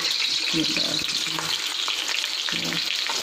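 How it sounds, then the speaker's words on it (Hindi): Semolina with a few cardamom pods being roasted and stirred in a pan for halwa, giving a steady, close frying hiss with occasional soft stirring scrapes. "अब इसको अच्छी तरह भूनना है सूजी को।"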